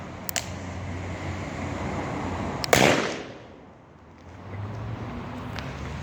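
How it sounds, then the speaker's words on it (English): Two beer cans taped together blown apart by two remotely fired explosives outdoors, a single sharp blast rising out of steady background noise, followed by a quieter decaying rumble and tail. "2 cans taped together, 2 explosives, 1 Talon, wired up, ready to remotely fire"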